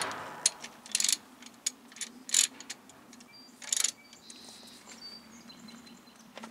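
Ratchet clicking as 13 mm brake bolts are torqued down on a 2012 Dodge Ram Bighorn 1500 front brake job; several short, sharp, separate clicks close by with a faint background hum, no talking.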